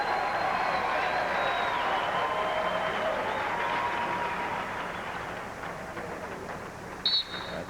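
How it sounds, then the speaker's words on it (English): A crowd of wrestling fans at a college championship meet cheers and applauds loudly in a roaring arena, with the noise slowly fading toward the end and a whistle-like blip at the close. "Iowa fans start to cheer. They know what's up."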